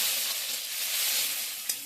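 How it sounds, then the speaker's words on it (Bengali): Chopped tomato fries in hot oil in a kadai, a dense, even sizzle close by with a small knock just before it ends. "কড়াইতে প্রথমে তেল দিয়ে দেবো টমেটো কুচি"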